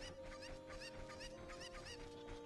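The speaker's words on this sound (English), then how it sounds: "Come here, chicken." Chickens in the video game The Legend of Zelda: Ocarina of Time cluck repeatedly in short chirping bursts, moderately loud over a steady background hum, with no voices.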